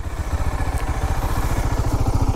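A motorcycle engine fires up and runs with a steady, close throbbing idle, its low chugging pulses loud and continuous with no talking over them.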